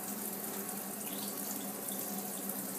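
Tap water runs steadily into an Innokin iClear 30 tank as it is rinsed out of leftover e-juice, a constant close hiss and splash with no break and no voices.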